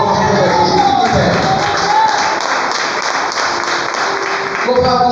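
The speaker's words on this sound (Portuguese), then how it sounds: "Dê uma salva de palmas para Jesus." Church congregation applauding and cheering during a deliverance service, loud crowd clapping mixed with shouts and voices in a reverberant hall, sustained for several seconds.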